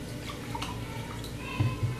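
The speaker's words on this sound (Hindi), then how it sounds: "अब हम इसमें पानी ऐड करेंगे ताकि गोश्त गल जाए" Water poured into a pressure cooker of fried mutton for bhuna gosht, a continuous splashing gush under a woman's speech in Hindi, with a few louder sloshes near the end.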